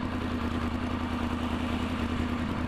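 A Yamaha R1 sport motorcycle fitted with a Power Commander 5 runs at a steady idle, with a continuous, even engine drone and a slight clattering texture, close and alone.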